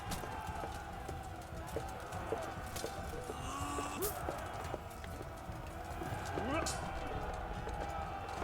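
A horse clip-clops along as its rider travels in the video game Kingdom Come Deliverance, a steady run of hoof beats under a person talking throughout.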